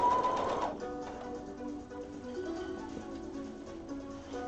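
A sewing machine runs a short, quick burst of stitching at the start, then settles into a faint, steady mechanical hum with no talking.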